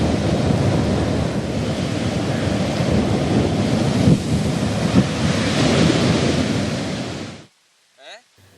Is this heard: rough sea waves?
yes